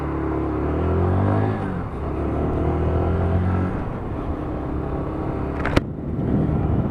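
A Lexmoto Assault E5 125cc motorcycle rides into a roundabout, its engine droning and shifting pitch as it slows and leans, with wind rush and one sharp click near the end.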